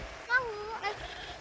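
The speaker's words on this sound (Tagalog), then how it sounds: "No, it's a goat." A goat on a street walk in San Miguel, Bulacan bleats twice in short, wavering cries, close and moderately loud, with faint background noise between the calls.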